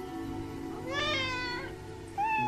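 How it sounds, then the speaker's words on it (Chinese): A kitten meows in a short, rising harmonic cry, followed by a second brief meow near the end, heard close over a faint indoor hum. "仨小猫都在我这儿呢"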